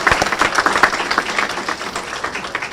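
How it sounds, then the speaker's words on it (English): A crowd at a live event applauds itself, many hands clapping in a close, busy patter that stays loud throughout with no talk over it. "give yourselves a round of applause"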